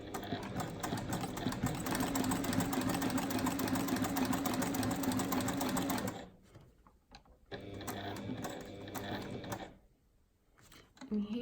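A domestic sewing machine stitches a seam on rolled fabric bag handles, a fast steady close whirring hum that stops partway through, then runs again in shorter bursts with pauses between.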